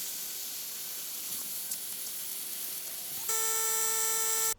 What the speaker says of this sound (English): Very impressed with the plasma cutting feature so far.